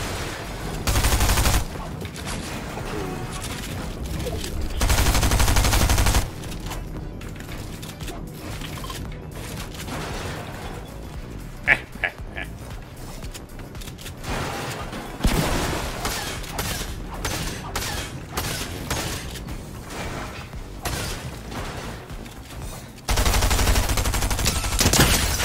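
Gunfire from a video game arena match: rapid automatic bursts and scattered single shots crackle on and off, moderately loud, with gaps of quieter game ambience between them.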